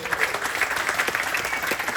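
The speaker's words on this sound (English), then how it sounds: "And how about another big round of applause for our volunteer, Warren Fulginzi out of Albuquerque," Applause from an audience at a technical and tactical solutions talk, dense steady clapping heard close and continuous throughout.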